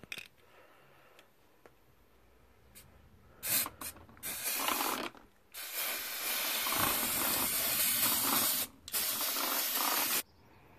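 A Humbrol 150ml aerosol can of grey primer hisses in several sprays, short bursts at first and then long steady blasts, close by, with faint clicking between.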